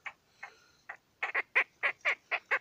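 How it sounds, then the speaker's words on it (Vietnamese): A trapped bird squawks loudly in a run of harsh, honking calls that grow stronger and more regular, sounding much like a clucking chicken. "Con này không biết là chim gì nhưng mà kêu như con gà luôn"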